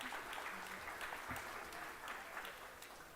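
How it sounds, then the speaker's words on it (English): Faint, distant audience applause at an international economics dialogue on supply chain strategies, a soft, even patter of clapping from a large room over a few seconds. "Give me applause lah."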